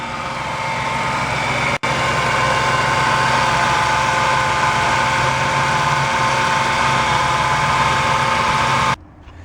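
Power steering pump whining on an idling car with worn steering, a steady mechanical drone with a faint tonal whine running continuously, briefly cutting out near the start and stopping abruptly at the end.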